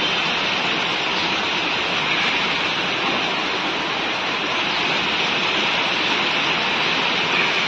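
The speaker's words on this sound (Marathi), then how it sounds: "आणि बाहेर भयानक पाऊस चालू आहे" Heavy monsoon rain falls outside during a Mumbai downpour, a loud, constant wash of hiss and roar that stays even throughout with no voices.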